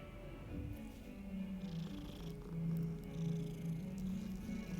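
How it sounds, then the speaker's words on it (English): A cat in the Hogwarts Legacy video game purrs steadily and close up, a low rumbling purr that rises and falls in gentle pulses for several seconds. "Hey, it's Cat. Can we interact with the cat?"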